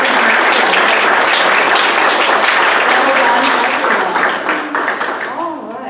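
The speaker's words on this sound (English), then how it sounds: "So round of applause to our graduates." A full room at a literacy council's student and tutor appreciation assembly applauds its graduates, with steady, dense clapping that holds for several seconds, then thins and fades toward the end.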